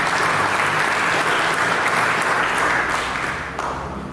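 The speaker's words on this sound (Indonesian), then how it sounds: "Mari sama berikan tepuk tangan bagi Yesus." A church congregation applauds in praise of Jesus, a dense, loud wash of clapping that holds steady for about four seconds before easing slightly near the end.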